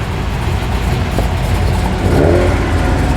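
A Holden Monaro's engine revs loudly at close range as the car rolls into a Sydney car show at night, a steady mid-range roar that swells slightly near the end.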